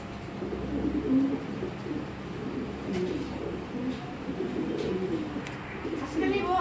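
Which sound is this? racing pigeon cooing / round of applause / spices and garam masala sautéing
racing pigeon cooing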